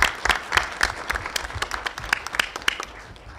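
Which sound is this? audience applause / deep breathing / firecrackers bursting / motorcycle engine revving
audience applause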